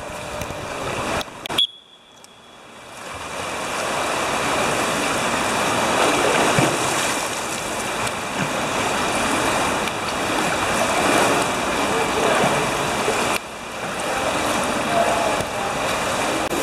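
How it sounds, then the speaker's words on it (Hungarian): Breaststroke swimming in a school swimming pool during a physical education lesson, recorded underwater: a steady, loud rushing wash of water with a brief dip near the start, continuing throughout. "Víz alatti felvétel készül a mellúszás munkájára."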